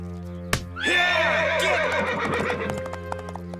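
A horse whinnies loudly and close by, a long shrill neigh that quavers and fades, with a sharp knock just before it.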